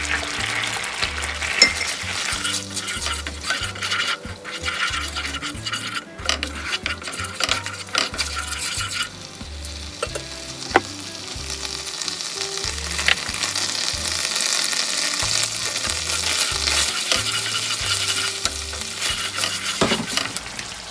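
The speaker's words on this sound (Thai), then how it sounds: "นำพริกแกงลงไปคั่วนะคะ" Red curry paste stir-fried with coconut milk for a pineapple and mussel curry sizzles steadily in a pan, with repeated scraping strokes and occasional utensil clinks against the metal, close and loud with no talking.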